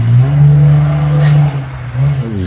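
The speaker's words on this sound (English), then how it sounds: "I'm gonna let that car go by" A car drives close by with a loud engine drone that holds steady, dips briefly as it passes, then swells again, heard alone without talk.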